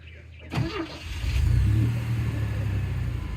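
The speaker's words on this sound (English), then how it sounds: "Let's start her up, babe. See how she sounds." A pickup truck engine cranks and catches after a brief silence, then settles into a loud, close, rumbling rev that holds steady to the end.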